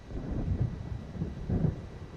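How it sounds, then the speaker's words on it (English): Low rumbling thunder of an approaching storm in the video game Alan Wake rolls in two deep swells, fairly loud with no speech. "It seems there's a storm coming."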